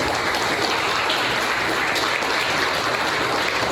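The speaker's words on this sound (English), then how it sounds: "Another round of applause." Audience applause at the close of a tech talk on React custom hooks, a steady wash of many hands clapping, loud and sustained throughout with no talk over it.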